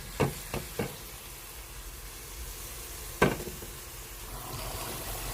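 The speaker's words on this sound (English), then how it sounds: "I chopped up a spring onion and I'm just adding that to the pan now." Spring onions hit a hot frying pan already browning chicken for brown stew chicken, giving a few sharp clinks and drops at the start and again midway over a steady, soft sizzle.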